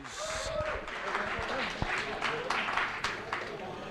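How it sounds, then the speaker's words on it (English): A crowd at the 888poker Live Manchester main event final table applauds the tournament winner, with moderate, steady clapping spread through a room and voices talking over it. "Ladies and gentlemen, can I have a big round of applause, please"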